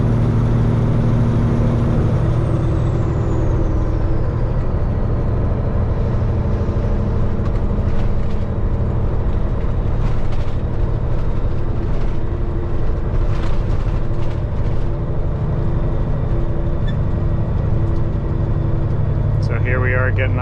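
A Peterbilt truck's diesel engine pulls steadily at around 1700 RPM with a low, constant drone heard from the cab, while someone talks over it throughout.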